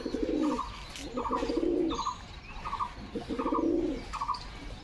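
Pet pigeons newly brought home coo in repeated soft rounds, about five bursts of low burbling calls with brief higher notes, steady and close with no talk.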